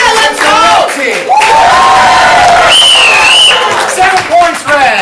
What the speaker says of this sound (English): whichever team you want to win the next 7 points, applaud louder